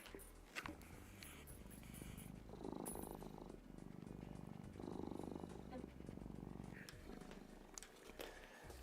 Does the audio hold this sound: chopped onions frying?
no